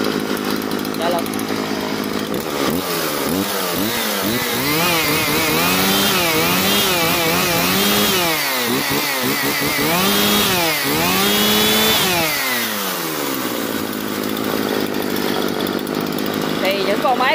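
A Husqvarna 137 chainsaw engine pulls to life and runs loudly, its pitch rising and falling with repeated revs before settling into a steady idle.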